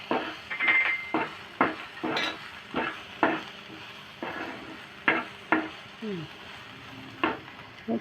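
Green chillies and onions stir-fried in oil for ragi adai, a Tamil millet pancake, with repeated scraping stirs against the pan over a steady low sizzle, close by and with no talk.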